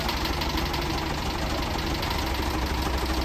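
A car engine runs steadily during a starter check in a workshop. It gives a dense, loud, even drone with a faint knocking texture, unbroken for the whole stretch, and no voices are heard.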